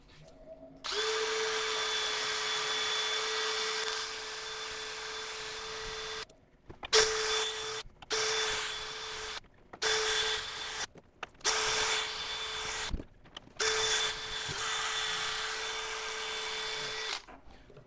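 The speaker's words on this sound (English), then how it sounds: "I'm just going to go on with a Scotch pad, which is about 1000 grit over the surface" A Scotch pad rubs against a spinning false acacia burl on a wood lathe, making a steady whirring hum in several bursts that are cut by short silences as the lathe stops and restarts.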